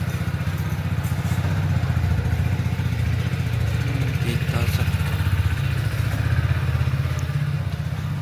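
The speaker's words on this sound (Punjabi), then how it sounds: "ਮੋਟਰਸਾਈਕਲ ਕਰ ਲਿਆ ਸਟਾਰਟ" A motorcycle engine runs with a steady, throbbing idle nearby, its rhythmic chug continuing throughout.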